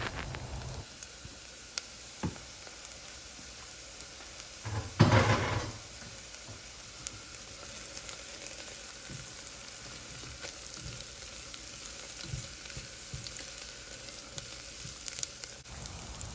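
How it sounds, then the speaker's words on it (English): Chopped onions and three cloves of garlic sauté in butter in a pan for lemon Parmesan risotto, giving a steady, close sizzle throughout with a brief louder flare partway through. "now that the onions have cooked a little bit, I'm adding 3 cloves of garlic."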